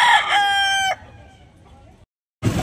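Rooster crowing at a chicken sale in Carbon, Cebu, a loud, close single crow lasting about a second, followed by quieter fowl noise, a brief silence and a burst of crowd sound.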